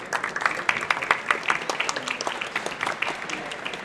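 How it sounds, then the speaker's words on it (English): An audience at the Pennsylvania State Capitol annual friendship dinner claps in a dense, lively round of applause that holds steady, then slowly thins. "you already got the claps"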